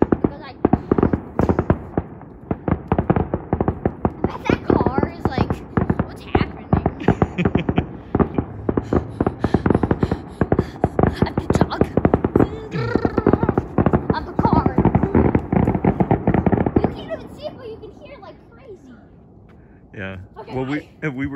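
Fireworks burst in the air outdoors in a dense, rapid barrage of crackling explosions, loud and close, before thinning out near the end.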